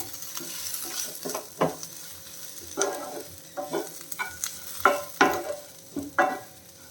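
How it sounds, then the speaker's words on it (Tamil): Okra and potato fry with curry leaves in a pan: a spatula scrapes and stirs in irregular close strokes over a soft, constant sizzle. "இதில் நம்ம கொஞ்சம் கருவேப்பிலையும் சேர்த்துடலாம் சேர்த்துட்டு கிளறிடலாம்"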